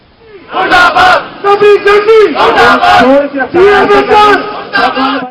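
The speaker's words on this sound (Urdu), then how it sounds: "نئی پالیسیوں کے خلاف نعرے بازی کی گئی" Members of the WAPDA Hydro Electric Workers Union at a street protest rally against new job policies chant slogans loudly in unison, with repeated rhythmic call bursts from a close crowd.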